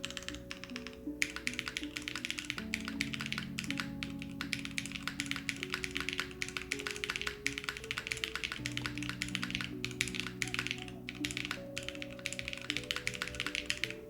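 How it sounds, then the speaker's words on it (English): Rapid, steady typing on a Swiss Cheeseboard mechanical keyboard with no desk pad, a dense run of crisp clacky keystrokes heard close and continuous throughout, with soft music underneath. "Can you type on the Cheese keyboard?"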